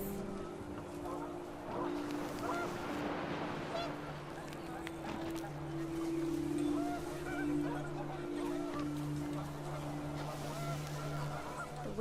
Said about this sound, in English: The wind picked up, El and viento panicked se geese levantó appeared